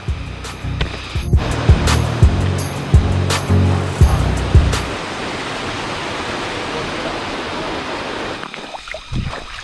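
Steady rushing water from a small waterfall on a Mt. Balagbag hiking trail roars close by, a dense wash of echoing noise with a few knocks and thumps early on.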